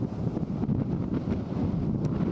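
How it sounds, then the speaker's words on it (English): Steady wind buffets the microphone high at a Blue Ridge mountain overlook by a viaduct on the Tanawha Trail, a constant broadband rush with low rumble and no talk. "It's awfully breezy."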